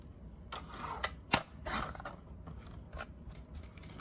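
Scissors or a blade trimming a vinyl car decal give a series of soft, close rasping snips and rubs, irregular and quiet, with no talking.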